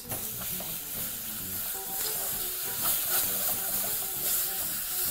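Goat ribs fry and sizzle steadily in a pot while being stirred with tomatoes and onions, a continuous close crackle broken by scraping stirs, with no talking.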